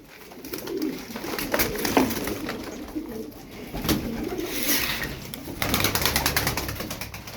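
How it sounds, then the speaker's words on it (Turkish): Iraqi feather-footed game pigeons coo and flap their wings in a loft, with bursts of wingbeats and cooing close by over a busy outdoor background. "Fena kanat çırpıyor."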